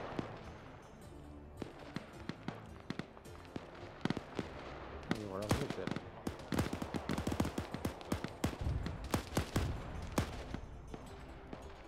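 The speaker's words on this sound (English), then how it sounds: "he's shooting at the infantry coming in" Scattered sharp gunshots and explosive pops from a war video game crackle in irregular clusters, faint and distant in a busy battle mix, growing denser toward the end.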